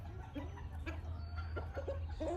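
Pet chickens cluck softly while pecking at treats, with short scattered clucks over a low steady background hum.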